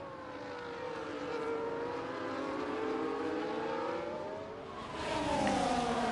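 Race cars in a sim racing game at the Abu Dhabi circuit, engines whining and rising in pitch as they pass, with a second car surging louder near the end, no voices.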